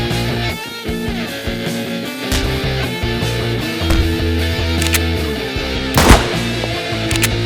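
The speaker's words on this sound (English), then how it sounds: "We need you to shoot the bad guys." Rapid gunfire from the Stick Battle Royale video game rattles almost continuously over a dense layer of game music and effects, with one sharp louder burst near the end.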